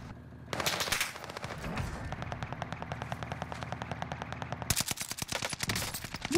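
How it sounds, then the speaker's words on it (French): Sustained automatic gunfire in the Warzone video game, rapid bursts of machine-gun shots rattling near and loud for several seconds, with a fresh louder burst near the end. "Il me tire dessus."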